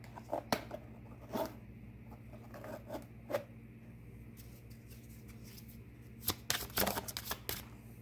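Tarot cards are handled and shuffled in a quiet room, giving soft papery slides, flicks and taps in scattered bursts over a steady low hum.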